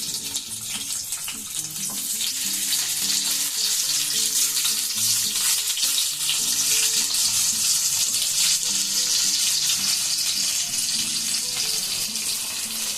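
Previously fried eggs go into a hot pan of oil with cumin while dim bhapa is being cooked. A loud, continuous hissing sizzle fills the whole stretch, close and steady, with faint low tones in the background.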